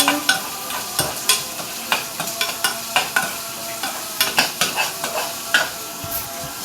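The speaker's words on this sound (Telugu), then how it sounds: "ఇలా అన్ని వెజిటేబుల్స్ వేసుకున్నాక ఒకసారి ఇప్పుడు మిక్స్ చేయాలి" Mixed vegetables with capsicum sizzle in a pan as a spatula stirs them in quick, repeated scrapes and taps against the metal, close by and rhythmic over a soft frying hiss.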